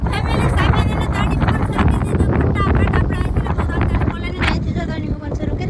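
Heavy wind at sea during a fishing trip rushes and buffets the microphone continuously, loud and close, with faint voices talking underneath.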